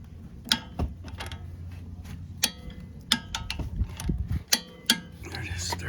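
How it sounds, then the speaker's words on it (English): A torque wrench works on suspension bolts during a D2 sport spring install on a 2018-2021 Honda Accord, giving sharp metallic ratchet clicks and knocks in irregular bursts over a low background hum. "I'm gonna do it with a torque wrench"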